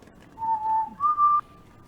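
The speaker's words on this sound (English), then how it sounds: "Is lizard whistling more natural or less natural?" A person whistles two short, steady tones, the second one higher, clear and close, with no talk over them.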